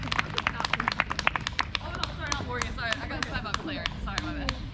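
Rally audience at a Laurelhurst Park press conference clapping for a speaker named Morgan, a dense burst of applause that thins into scattered claps while voices and cheers rise over it.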